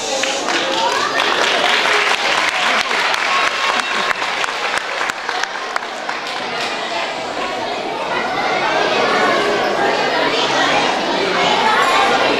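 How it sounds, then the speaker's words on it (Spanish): Loud, sustained applause from a school audience at a children's performance, dense steady clapping filling the whole stretch with a murmur of children's chatter mixed underneath. "Escuchad con atención y aplaudid un montón"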